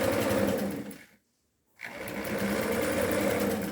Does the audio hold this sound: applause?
no